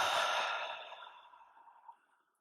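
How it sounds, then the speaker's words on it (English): A slow, breathy exhale through the mouth during a yoga session, starting full and close, then fading gradually to silence over about two seconds. "exhale slowly through your mouth"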